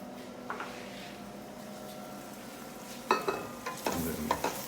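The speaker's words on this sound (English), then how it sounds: "we're going to saute those with a little bit of salt" Diced potatoes and leeks sauté in butter with a little salt, a faint steady sizzle broken by a few louder scraping stirs and clatters toward the end, no talking.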